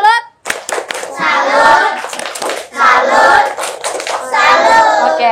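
Classroom children perform a rhythmic tepuk salut clap, sharp patterned handclaps in quick bursts mixed with young voices chanting along, loud and close, with brief gaps between phrases.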